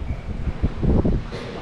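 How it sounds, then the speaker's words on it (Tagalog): Strong wind gusts outdoors, buffeting the microphone with a rough, fluttering low rumble that swells and eases over a brief stretch, with no voices over it. "Kaya lakas ang hangin ah."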